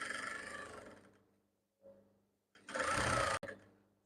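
A sewing machine stitches down kimono fabric in two loud, close bursts of rapid mechanical whirring separated by a short pause, the second run ending with a sharp click.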